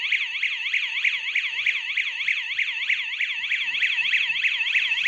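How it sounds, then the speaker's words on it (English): A panic alarm triggered by its panic button wails loud and steady, a rapid repeating electronic warble sweeping up and down in an even, fast rhythm, close by with no talk over it. "you can listen the sound made by this alarm."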